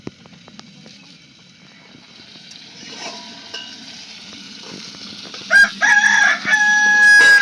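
A rooster crows loudly near the end, over a background of quiet kitchen clatter and gentle sizzling.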